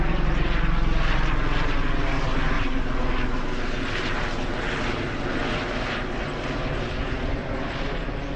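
A helicopter roars steadily overhead in the Swiss Alps, its loud rotor and engine drone filling the air without a break.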